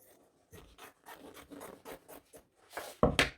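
Scissors cut through a fabric sleeve piece in a series of short, close snips and rasps at an uneven pace, ending in two louder crisp cuts, with no talking.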